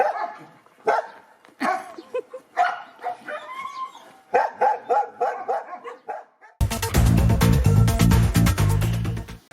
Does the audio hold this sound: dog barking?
yes